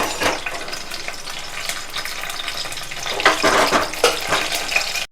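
Chopped onion hits a hot pan for a tamarind fish curry, a continuous sizzle broken by bursts of crackling and scraping as it is tossed, close and fairly loud without talk.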